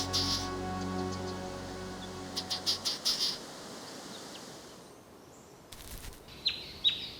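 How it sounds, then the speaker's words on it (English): Juvenile eastern yellow robin, the lone surviving chick of its clutch, giving short high chirps in a few quick bursts over a steady rain-like wash of ambient outdoor noise, fairly faint and distant. "The young is the sole survivor of the clutch of 3 eastern yellow robins."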